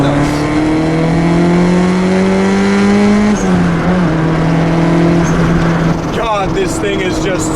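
A boosted B20B engine in a 1988 Honda CRX pulls hard in second gear, its pitch climbing steadily up close before a shift, then revving on with a brief tire squeal near the end.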